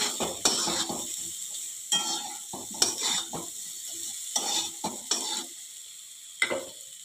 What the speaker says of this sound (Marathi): मीठ घालून परत एकदा चांगलं परतून घेऊया।